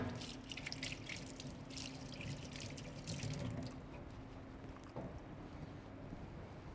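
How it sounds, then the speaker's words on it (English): Kitchen tap water runs into a sink while a spoon is rinsed, a faint, steady hiss and splash lasting the whole stretch, with a brief clink near the end. "I'm just going to give this spoon a quick rinse."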